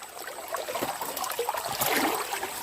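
Water flows along a stream where crab traps are being set, a close, steady trickling and gurgling rush with small splashy fluctuations throughout.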